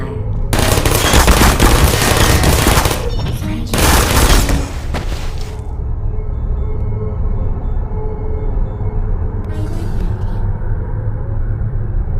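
Automated turret in the Portal video game firing loud, dense bursts of rapid gunfire in two long volleys, followed by a quieter, steadier mechanical hum with a faint blip near the end.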